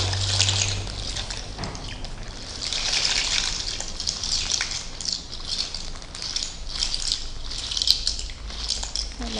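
Water in a cooking pot for pasta shells makes a steady trickling, bubbling wash with small splashes and surges, close and fairly loud, with no talk.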